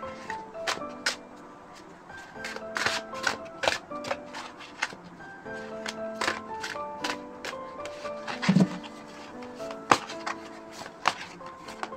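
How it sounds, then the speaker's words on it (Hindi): Tarot cards drawn five at a time from two decks for a reading, soft close card slides, taps and flicks in an irregular series, with light background chimes. "हमेशा की तरह पांच पांच कार्ड लेंगे दोनों डेक में से।"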